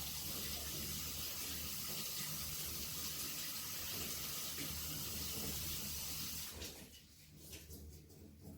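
Canned garbanzo beans rinsed under a running kitchen tap, a steady close gush of water that cuts off near the end, leaving quieter handling noise.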